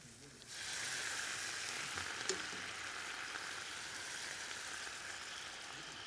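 Lobster pieces lightly caramelizing in a pan, a soft even sizzle that swells in after a quiet start and holds steady and faint, with one small clink partway through.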